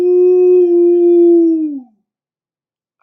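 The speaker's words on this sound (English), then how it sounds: "a low, high-pitched howl from the woods" An eerie, sustained howl from the woods used as an audiobook sound effect, a single loud, steady wail lasting nearly two seconds before trailing downward into silence.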